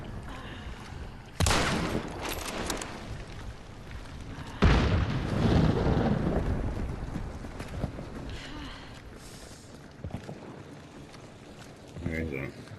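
Gunshots in the video game Hunt: Showdown, with two loud sharp blasts a few seconds apart followed by fading rumble, while players talk throughout.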